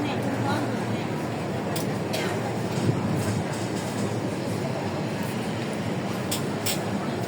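A train passes close by as a steady, heavy rumble with faint rhythmic clicking from the wheels. People talk over it.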